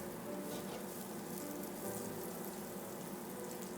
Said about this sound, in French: On laisse roussir un peu le beurre.